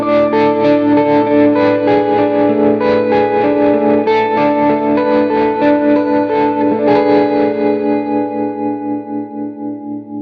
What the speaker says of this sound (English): in scene 5, we've got our atmospheric tremolo